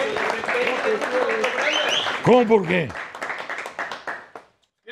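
A studio audience applauds for a guest on a Mexican morning TV show, brief clapping under talk, with people speaking and laughing over it.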